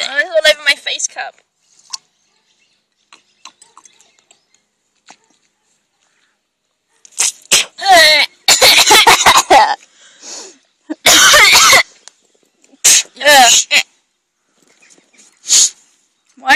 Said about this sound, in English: I coughed because it started going down my throat and it was horrible.